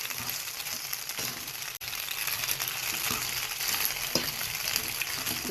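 Pasta with dried shallots and butter-fried onions stirred in a hot pan, a steady dense sizzle with soft scraping strokes and a sharp brief click near the middle, no talking.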